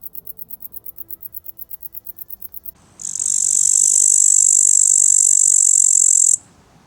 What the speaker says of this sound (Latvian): Sienāžu tēviņi rada skaņu, trinot savu priekšspārnu pamatus vienu gar otru.